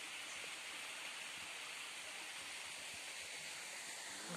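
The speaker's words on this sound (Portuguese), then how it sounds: "Cachoeirinha ali, menino." A small waterfall near Corumbá de Goiás pours in a steady, close, even rush of water, with no voices over it.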